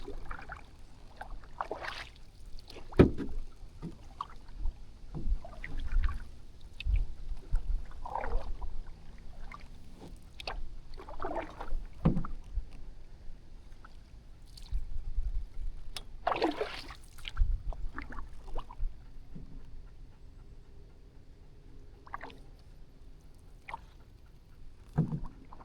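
Paddle strokes and light water splashes from a kayak or canoe on Boyer's Creek, with a dog aboard, coming as intermittent soft dips and drips close by over a quiet background.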